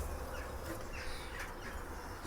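Bees buzz around a beehive in a close, steady hum that fills the short stretch without a break, with no speech.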